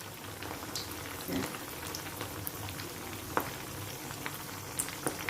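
Medu vada made from leftover rice fry in hot oil on a medium flame, with a steady close bubbling sizzle and occasional small pops.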